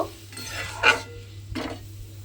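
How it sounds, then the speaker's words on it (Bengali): Dal with ridge gourd being stirred in a pan, a few scraping and clinking strokes of the spoon against the metal over a soft background sizzle, close and moderately quiet. "এবারে সমস্ত কিছু খুব ভালোভাবে মিশিয়ে নেব"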